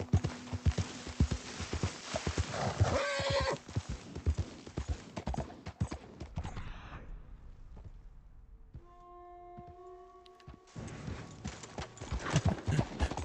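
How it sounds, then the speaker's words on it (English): Horse hooves clip-clop in the video game Red Dead Redemption 2, a brisk, close run of hoofbeats that fades into a quieter stretch with a few tonal game sounds, then the hooves pick up again. "Take the horse up the ravine once more,"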